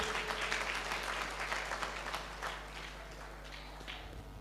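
Audience at a public function in Bahraich clapping for a speaker, a steady broadband patter of many hands at moderate level that thins slightly toward the end, with no clear talk over it.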